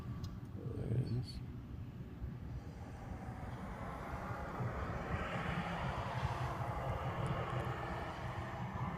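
An Airbus A380 airliner passes near Honolulu airport at sunrise, a loud, steady broad engine roar that swells gradually and holds throughout, with faint talk in the background.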